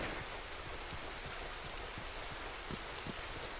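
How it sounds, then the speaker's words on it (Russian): A rain shower falls in a video game as a soft, steady hiss, with scattered faint drop ticks throughout and no talking. "Опять ливень пошел"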